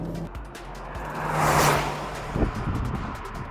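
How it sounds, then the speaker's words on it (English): A 2024 Hyundai Creta facelift with a turbo petrol engine blips its revs to match a downshift. The engine note swells briefly to a loud peak mid-clip, then falls away under road and tyre noise. "A neat trick with the gearbox is also that it rev matches, so you can tug along the pedal, reduce, and you have that nice rev matching sound"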